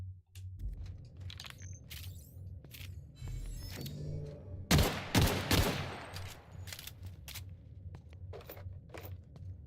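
A newly acquired pistol fires in the Outer Worlds video game: a dense burst of loud, sharp shots clustered mid-clip, with scattered single reports before and after over a low droning game backdrop.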